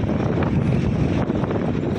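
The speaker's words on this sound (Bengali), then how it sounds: "প্রচুর ঝড় বাতাস হচ্ছে, বৃষ্টি, বৃষ্টি।" Strong stormy wind with rain roaring at a bus stand, a dense, steady low rumble buffeting the microphone throughout, with no talk.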